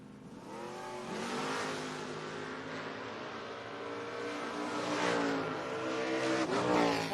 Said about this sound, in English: 693 dial-in for Brandon Michaels, his 2000 Camaro